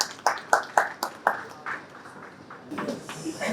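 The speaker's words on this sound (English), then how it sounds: "Please give her a big round of applause." Audience applause at a RovoCon Bengaluru 2025 tech conference welcoming a presenter to the stage, with a few sharp, separate claps at first, then a softer spread of clapping from the crowd before the room settles and fades.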